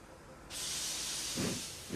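Steam locomotive Emily lets out a loud, broad hiss of steam that starts abruptly and holds steady, with a couple of short chuffing bursts near the end.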